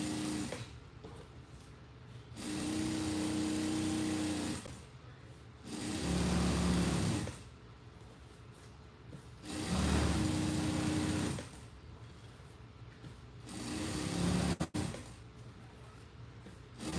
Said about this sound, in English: I am sewing away, doing production work.